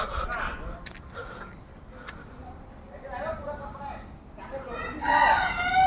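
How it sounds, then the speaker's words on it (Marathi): A village poultry farm beside farmhouses, with native hens kept there, carries a rooster's crow rising clearly at the end over faint clucking and outdoor ambience, with indistinct voices nearby. "इथे कोंबड्यांची पोल्ट्री आहे, गावठी कोंबडी वगैरे मिळतात"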